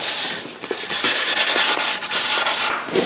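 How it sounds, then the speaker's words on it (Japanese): Wooden dining table parts being hand-sanded with sandpaper, a steady rasping scrape with quick back-and-forth strokes, close and loud throughout with no talking. "ここペーパーかけてますね"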